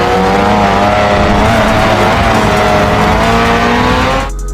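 Racing cars from Grid Autosport roar steadily at high revs, engine notes rising together with faint tire squeal, loud and continuous until cutting off abruptly near the end.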